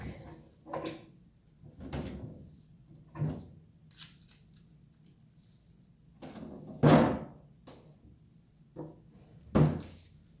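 Wooden furniture drawer that sticks, yanked open in several short scraping, thumping pulls spread across the moment, with quiet gaps between them and faint indoor background.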